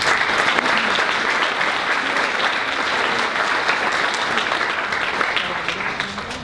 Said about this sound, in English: I think that's worthy of a large round of applause